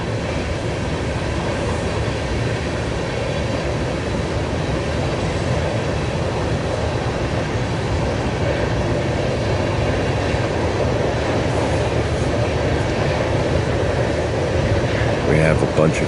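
A westbound manifest freight train rolls past near the track at Ashland, Nebraska, a loud, continuous rumble of railcars with faint clatter throughout, and someone talks over it.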